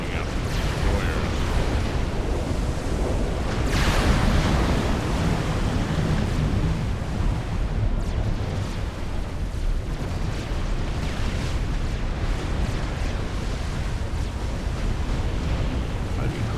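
Destroyers being shot down in a Supreme Commander real-time strategy match, a dense continuous roar of explosions and weapons fire throughout, with a sharper burst early on, steady and loud.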